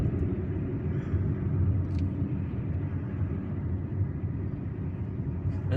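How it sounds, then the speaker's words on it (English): Low, steady road rumble from inside a car driving through traffic in Algiers, a continuous muffled engine and tyre drone with a couple of faint clicks on top. "There's always traffic here."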